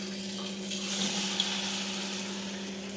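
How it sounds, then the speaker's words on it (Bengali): Bitter gourd slices dipped in batter frying in hot oil, a soft continuous sizzle with a faint watery crackle, steady and close, with no voices. "এবার উচ্ছেগুলো চুবিয়ে চুবিয়ে ভাজবো"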